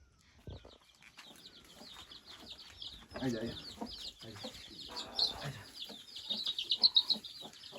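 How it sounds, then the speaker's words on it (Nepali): Chickens and chicks cluck and cheep close by in a village, soft high peeping mixed with hen clucks and a little wing flapping, with quiet voices in the background. "कुखुराहरू, सानो कुखुराहरू"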